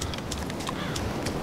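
Cow hooves pounding across the ground in the survival game DayZ, a busy rapid patter of footfalls running steadily through the whole moment, moderately loud with no talk over it.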